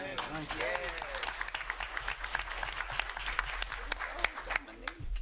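Applause at a city council meeting in Florence, South Carolina, a steady room-wide clapping with a few louder individual claps, with talk and voices running faintly underneath throughout.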